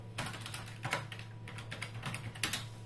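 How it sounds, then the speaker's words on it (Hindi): Fingers type on a computer keyboard, a quick irregular run of close clicking keystrokes with a few louder taps over a low steady hum. "यहाँ पे भी टाइप करना है"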